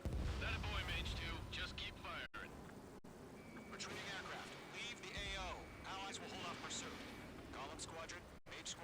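Rapid gunfire crackles through an aerial dogfight in Ace Combat 7: Skies Unknown, rumbling with engine noise beneath steady radio chatter from pilots.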